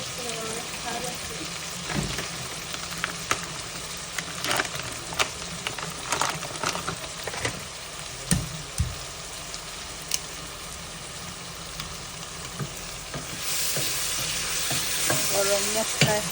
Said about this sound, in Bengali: তো এখন আমি মুরগির বাগার আস্তে আস্তে শুরু করে নিয়েছি।